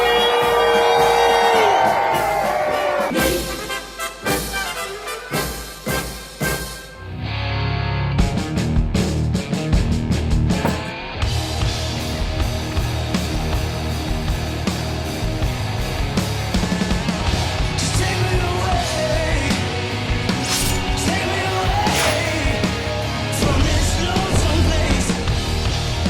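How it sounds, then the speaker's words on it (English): A large crowd screams, whoops and cheers loudly for a sustained stretch, a dense wall of voices that swells and carries on for over twenty seconds, with some music-like sound mixed in early on. "Give me a scream!"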